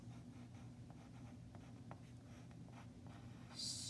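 Pencil handwriting letters on paper, faint soft scratches and short strokes in an irregular rhythm over a low steady hum, close and quiet, with no talking.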